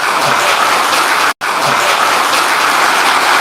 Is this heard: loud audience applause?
yes